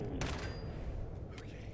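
Gunfire in the video game Fallout 4: two faint, short bursts of shots sound about a second apart over a low, steady game background rumble.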